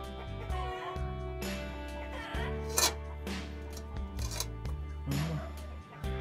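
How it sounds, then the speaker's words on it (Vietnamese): Chickens cluck intermittently in the background at a home kitchen beneath steady music and some nearby clattering sounds. "Nhà có nuôi gà nên hơi ồn"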